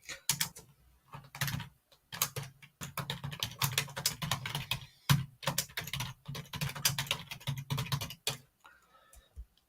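Fingers type quickly on a computer keyboard to enter a title, a close run of crisp key clicks in dense bursts with short pauses, ending in a few isolated taps.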